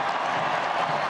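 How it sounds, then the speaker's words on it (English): A large open-air crowd in St. Peter's Square applauds Pope Leo's first Sunday blessing from the basilica balcony, a dense, continuous roar of clapping and cheering at a steady, loud level throughout. "Pope Leo's first Sunday blessing from the balcony of St. Peter's Basilica was met with thunderous applause."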